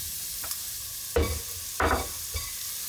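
Onion fries in a pan at an outdoor camp cook-up in Barrington Tops National Park. A soft, steady sizzle carries a few distinct scraping bursts as the pieces are pushed around, close by and with no voices.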